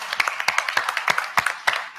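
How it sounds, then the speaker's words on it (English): A small audience claps for a guest at a panel on voice-first technology. There are only a handful of distinct, close hand claps in a loose, uneven rhythm over about two seconds. "Let's give her another round of applause."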